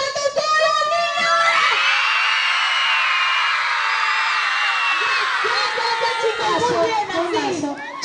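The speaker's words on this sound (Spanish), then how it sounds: "¡Aplaudiendo y gritando a todos los niños!" Children at a school Christmas posada shout and scream together as a crowd, a loud sustained wave of young voices with possible clapping mixed in, close and continuous throughout.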